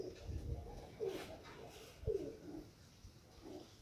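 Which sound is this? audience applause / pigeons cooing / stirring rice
pigeons cooing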